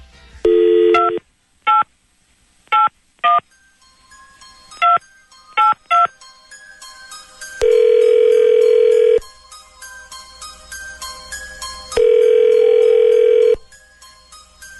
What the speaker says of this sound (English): let's make a little phone call here